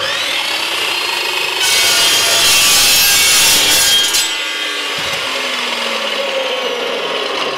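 A hand saw cuts through wood with steady back-and-forth strokes, loud and close, swelling into a harsher stretch of rasping in the middle before settling back to an even rhythm, with no talking.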